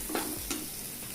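Ginger garlic paste being stirred and fried in a pan for rajma masala curry, with two brief scraping bursts over a soft, steady sizzle.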